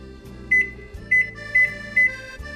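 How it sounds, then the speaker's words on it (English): A microwave oven running while it melts chocolate chips gives a steady low hum, with four short high beeps at even intervals on top. "put them in the microwave. We turn the power on."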